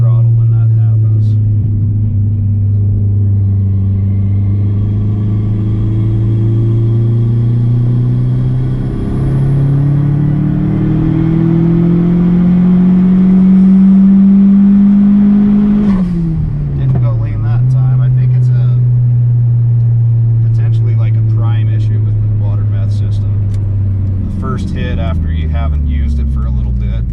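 Dodge Neon SRT4 engine with a water-methanol injection kit revving under throttle, a loud droning tone that climbs steadily, then drops sharply as the throttle is released, with faint talk and clatter afterward.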